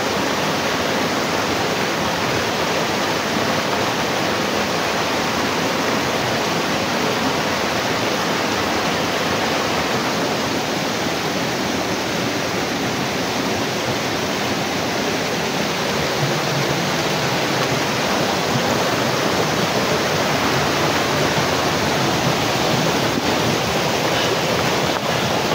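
Powerful rushing water, a loud continuous roar of churning waves that fills the whole stretch without pause or voices.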